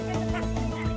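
Domestic ducks quack and honk close by in a short, busy flurry of calls, with people talking faintly in the background.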